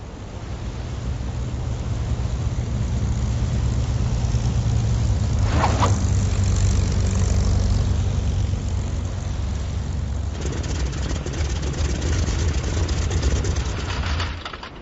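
Aircraft engine drones steadily through an emergency landing in Battlestations: Midway, a broad continuous roar with a brief sharp burst near the middle, holding loud until it tails off at the end.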